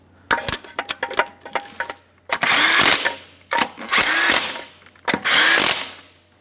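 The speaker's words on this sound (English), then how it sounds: "Start on all 6 of your lug nuts, bottom them out, and then torque them to 76 foot-pounds." A power tool runs the six wheel lug nuts down on a 1996-2002 Toyota 4Runner. A quick series of metallic clicks comes first, then four loud, close whirring bursts separated by brief pauses.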